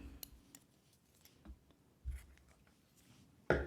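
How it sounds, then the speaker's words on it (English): Scissors snip through crochet yarn in a quiet room, a few soft, brief cuts and clicks spaced out, ending with a sharper snip. "Now I will just chain 1 and cut this yarn."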